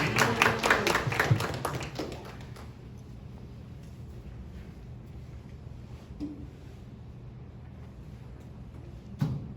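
A burst of audience applause, fairly close and energetic, dies away after about two seconds into quiet room tone, with a brief clap or tap near the end.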